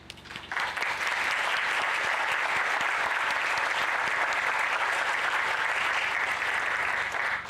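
An outdoor groundbreaking ceremony crowd for a Meals on Wheels project breaks into sustained applause, a steady, even clatter of many hands that swells within a second and holds at a constant level, moderately distant.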